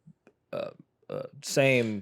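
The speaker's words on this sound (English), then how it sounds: "I burped." A person lets out a loud, voiced burp of about half a second that ends the clip, after short bursts of nearby conversation.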